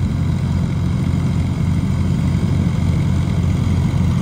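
A tractor engine runs at a steady idle, a continuous low rumbling drone that stays close and even throughout, with no speech.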